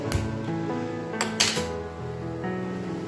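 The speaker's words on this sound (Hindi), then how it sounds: "और चलिए अब कढ़ाई गैस पे चढ़ा देते हैं।" A metal kadai is set down on a gas stove for making peanut chikki, giving a few close, quiet metallic clanks and clinks spread over a few seconds.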